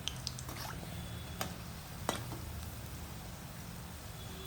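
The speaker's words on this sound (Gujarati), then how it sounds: "આવી રીતે ફરાવતા જવાનું અને તળાતા જાય" Spinach fritters (gota) frying in oil in a kadai give a steady, close sizzle, with a few sharp pops and crackles breaking through the continuous hiss.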